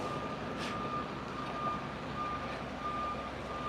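A reversing vehicle's backup beeper on a back street, a steady tone repeating under continuous traffic and engine rumble at moderate distance.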